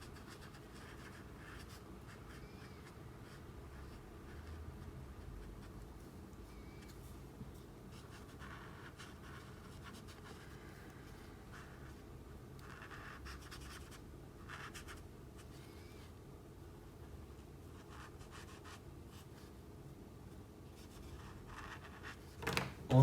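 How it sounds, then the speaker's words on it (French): Graphit alcohol marker, shade 4155, coloring skin areas of a drawing on paper: steady soft scratchy strokes, close and quiet, repeating continuously throughout with no voices. "j'utilise un feutre 4155 des graphites pour colorier la peau"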